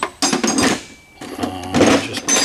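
An impact wrench loosening bolts on a Plymouth Barracuda crate engine fires in two short, loud rattling bursts with a brief pause between them, close by.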